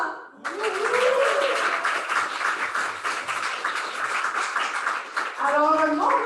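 Applause from a studio audience or guests at the start of a French-language podcast on the housing crisis, a steady dense clatter that swells after a brief voice and fades out as speech returns at the end.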